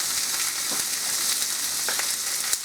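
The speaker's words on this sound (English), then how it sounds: "you can take your meat and start to add it so that they can start cooking together" Meat and onions sizzling in a frying pan for potato rellenos, a steady loud crackling fry with faint stirring clicks and no voices.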